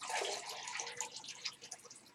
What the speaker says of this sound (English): I'll get this bucket refilled.